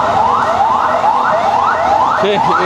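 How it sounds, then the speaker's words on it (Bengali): An ambulance leaving a hospital at Shahbag, Dhaka, during a police and student standoff sounds its siren loud and close in a fast, repeating rising wail, with traffic noise underneath. "অ্যাম্বুলেন্স যেটি রয়েছে এই মুহূর্তে বাড়েন হাসপাতাল থেকে বেরিয়ে আসছে"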